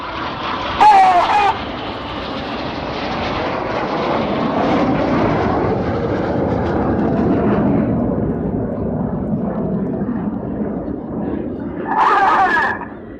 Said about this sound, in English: The pilots put full power on the jets, turning away from us now